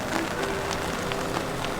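Rain pattering steadily onto a caravan awning at a beach campsite, with water running off the fabric in a constant, close hiss and scattered drops.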